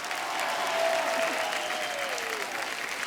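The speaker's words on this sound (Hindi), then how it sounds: "एक बार भुज की पूरी स्टार कास्ट के लिए जोरदार तालियां हो जाए।" Studio audience on the Kapil Sharma Show breaks into steady, dense applause for the Bhuj star cast, a continuous wash of clapping at even loudness throughout, with a faint sustained tone running beneath it.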